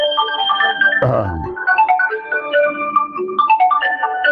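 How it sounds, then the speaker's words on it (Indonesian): A phone ringtone goes off during an Islamic talk, a bright melodic electronic tune repeating its notes loudly and alone, briefly interrupted by a low thump midway before the jingle carries on. "Ini ada telepon tapi nggak tahu cara mematikannya."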